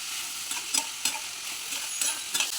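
Boiled corn kernels with coriander are stirred in a pan, giving soft, close scraping strokes roughly every half second over a light sizzling hiss, with no talking.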